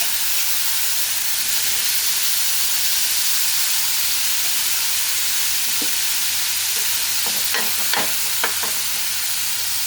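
Paneer shallow-frying in oil in a pan makes a loud, steady sizzle and hiss, with a few brief utensil clicks near the end and no voices.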